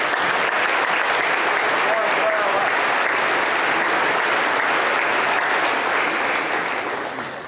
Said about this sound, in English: Let's give the band, and especially those senior band members,